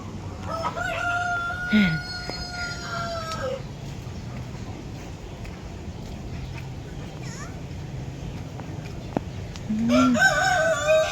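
A rooster crows twice, once early and again near the end, with many hens clucking in the background amid outdoor noise and faint voices on a farm in Tagaytay City.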